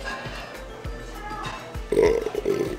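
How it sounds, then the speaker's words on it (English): A man burps at a restaurant table after eating an omelette in an eating challenge. The burps come as short low pulses, with a louder, longer burst near the end, among nearby voices. "Stop burping."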